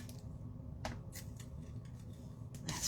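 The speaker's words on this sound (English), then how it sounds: "I'm just going to take my trimmer and trim that off." A paper trimmer slices off excess paper in a card-stamping craft setting, giving a few short, close, crisp cutting strokes spaced over a couple of seconds against a low background hum.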